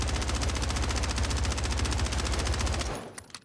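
The HRM fires a long, continuous full-auto burst in Call of Duty Warzone on Rebirth Island. The rapid, loud, evenly spaced shots cut off near the end and leave a few faint trailing clicks.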